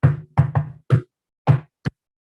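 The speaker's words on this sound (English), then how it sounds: "Then there was a knock on the palace door." Knocks on a palace door, six crisp raps in an uneven pattern of quick pairs and single strikes, close and loud with silence between them.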